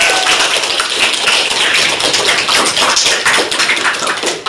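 A classroom of students claps together, a close, loud, fairly ragged patter of hands lasting several seconds.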